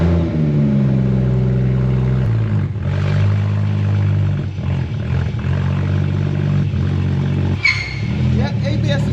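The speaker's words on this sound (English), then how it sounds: "start the car, I'll connect the gear selector, stick it in gear, and you should see some movement there" A BMW 114i hatchback converted to M140i spec starts up and is shifted into gear, its engine note steady and close with a mechanical clunk near the end.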